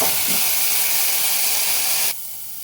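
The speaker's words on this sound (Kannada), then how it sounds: "ಈಗ ಈ ಬೀನ್ಸು ಮತ್ತು ಬ್ರೋಕೊಲಿ ಚೆನ್ನಾಗಿ ಫ್ರೈ ಆಗಿದೆ" Beans and broccoli frying in a pan give a steady, loud sizzling hiss that runs evenly, then drops off sharply to a much quieter hiss near the end.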